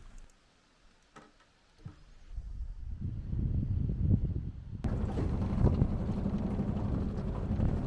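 Quiet at first, then an icy August wind in Sweden gusts strongly and swells into a steady, loud roar buffeting the microphone, with no voices.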